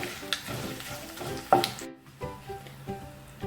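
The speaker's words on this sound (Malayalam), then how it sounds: "ഇനി എല്ലാം നല്ലപോലെ മിക്സ് ചെയ്ത് കൊടുക്കാം" Dried red chillies with curry leaves being stirred and fried in a pan for an easy potato curry, with scraping spoon strokes over a low sizzle and a sharp clack near the middle, no talking.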